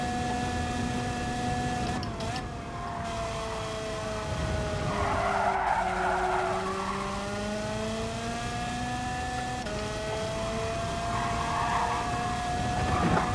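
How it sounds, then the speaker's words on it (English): A car braking hard in Gran Turismo 7, long sustained tire squeal and skidding over a steady engine drone, close and loud throughout. "Let's see what happens when we hit the brakes this time."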